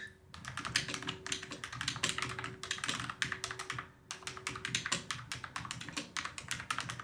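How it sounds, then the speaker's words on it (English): Rapid, uneven clicking of keys on a small computer keyboard, close and fairly quiet, with brief pauses between bursts of typing and no talking. "And I have a little keyboard here too."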